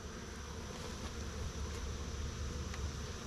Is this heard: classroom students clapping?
no